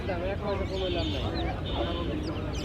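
Poultry call and cluck amid a busy village poultry market, with a hen and her chicks nearby; bird sounds come in short repeated bursts under steady crowd chatter and voices.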